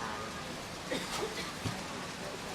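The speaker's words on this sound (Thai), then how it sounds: "โอ้โหฝนตกนะ" Steady rain falling on an open area without a roof in Thailand, a continuous broadband hiss throughout with a few brief louder spatters, fairly close and moderately loud.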